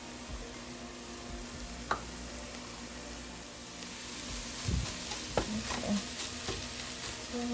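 Pork chops coated in a spiced flour mix sizzle steadily in a hot pan while a utensil scrapes and stirs them in scattered clicks and scrapes, close and moderately loud, with one brief spoken word.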